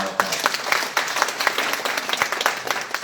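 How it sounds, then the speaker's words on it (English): A group applauds John Lloyd at a Riway Philippines leaders' sharing event. The clapping is steady and moderately loud for a few seconds, with individual claps standing out. "Can we give John Lloyd a round of applause?"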